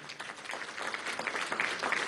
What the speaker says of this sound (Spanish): Yo pido un aplauso para el Consejo Nacional Electoral